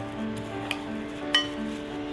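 Bhel puri of puffed rice with broken pani puri being mixed in a bowl, a faint scraping stir with two light clinks of a spoon against the dish over a steady background hum.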